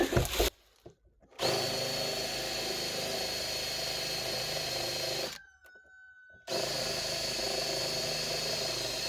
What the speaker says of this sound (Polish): Tym razem grubsze wiertło.